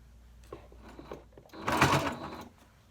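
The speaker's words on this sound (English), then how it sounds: "Whenever you hear that loud noise, I'm just going over a seam and the fabric is thick in that area" A sewing machine stitches through thick denim jeans, a few soft ticking stitches giving way to a louder, denser burst of rapid clattering as the needle crosses a heavy seam, close and without talk.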